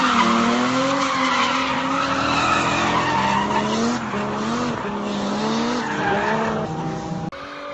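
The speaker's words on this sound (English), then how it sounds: "one of the first few times I'd taken the 240 out drifting. I was still just trying to get comfortable sliding." Tire squeal from a Nissan 240 drifting, a loud, continuous wavering screech of sliding rubber with engine note beneath, lasting the whole run and cutting off sharply near the end.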